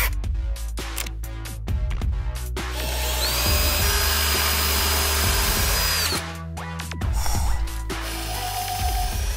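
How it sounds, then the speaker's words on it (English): A power drill boring holes in a CD, opening with short bursts, then a long sustained whine, and ending with more brief bursts, close and loud. "We're gonna drill them right now."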